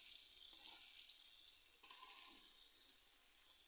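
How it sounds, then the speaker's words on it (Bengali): Sankar fish (stingray) frying in oil to a reddish brown, giving a steady, fairly faint hiss throughout with a couple of small crackles and no voices. "মাছ আমি এভাবে একটু লাল করে ভেজে নেব।"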